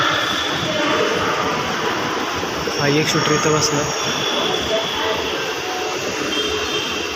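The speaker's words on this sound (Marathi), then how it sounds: "हे पुणे रेल्वे स्टेशनचं मेट्रो स्टेशन आहे" A metro train rumbles at the Pune railway station metro platform, a broad steady roar of wheels and motors with a brief brighter screech midway, while someone talks over it.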